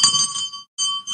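A hand bell rings during a Hindu lamp-waving offering at a spiritual program, with bright clear metallic tones in two runs of repeated strokes separated by a brief pause, loud and close.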